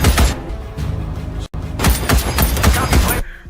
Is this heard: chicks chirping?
no